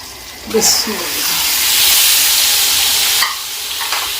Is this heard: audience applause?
no